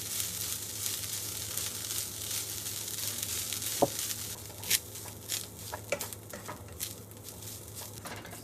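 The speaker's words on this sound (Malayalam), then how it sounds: "എന്നിട്ട് നന്നായിട്ട് വറക്കാം കേട്ടോ" Coconut, asafoetida and curry leaves roast in a hot pan for Kerala sadhya sambar, giving a steady close sizzle broken by scattered sharp crackles and a few stirring scrapes.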